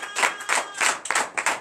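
A church congregation at a night deliverance service claps in acclamation, with five or six loud bursts of rhythmic group clapping, close and lively.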